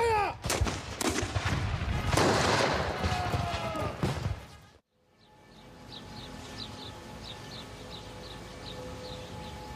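A volley of muskets fires on command in a historical battle reenactment, a dense crackle of overlapping loud shots over a few seconds, followed by sudden quiet and a soft repeating chirp in the background.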